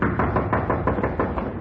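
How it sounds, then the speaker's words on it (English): Someone knocks at a door in an old-time radio drama, a steady series of about eight evenly spaced raps, close and firm. "Answer the door, Sarah"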